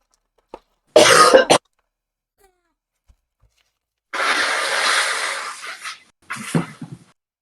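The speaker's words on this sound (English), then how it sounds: "I'm blowing my nose in the corner." Two bursts of forceful nose blowing, a short loud one and then a long rushing blow in quiet, followed by a brief snuffle.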